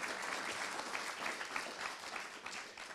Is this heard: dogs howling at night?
no